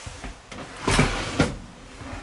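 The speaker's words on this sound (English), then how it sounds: "The original butler's pantry is still operable. The drawers open are easily used." Wooden drawers in an original butler's pantry slide open with a couple of soft, close rumbling pulls and light knocks in a quiet room.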